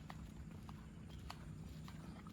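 Horse hooves clip-clop at a steady walking pace on a rural road near a dam at sunset, faint and somewhat distant beneath a constant low rumble of wind or traffic.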